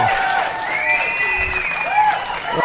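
An audience applauds at a 65th birthday show, a steady wash of clapping heard with tonal music or whistling sounds layered over it.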